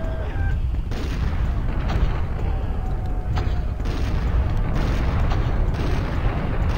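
Gunfire in the video game Turok Dinosaur Hunter, a dense stream of booming shots and blasts heard over a constant rumbling game background, loud and continuous.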